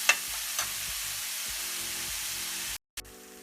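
Onions sizzle steadily in a pan for mutton keema, a dense, even hiss close up, with a few soft stirring scrapes and a brief cut to silence near the end.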